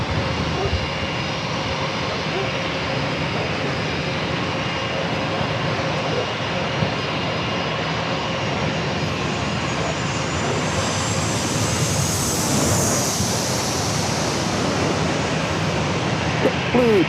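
A JetBlue Airbus A321 jet airliner at San Diego airport makes a steady, loud engine roar that builds slightly toward the end, with a broad hiss throughout.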